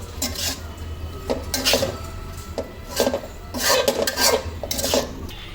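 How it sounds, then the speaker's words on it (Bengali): A fried egg is stirred into pasta in a pan, making repeated scraping, clattering bursts of utensil against metal in an uneven rhythm, close and moderately loud, with no talking. "ডিমগুলো পাস্তার উপর দিয়ে দিয়ে ভালো করে নেড়ে নেব, যেন পাস্তার সঙ্গে ডিমগুলো ভালো করে মিশে যায়।"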